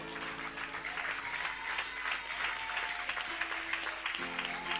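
A church congregation claps continuously to acclaim the Lord during a French-language sermon, a dense even applause with sustained keyboard tones underneath.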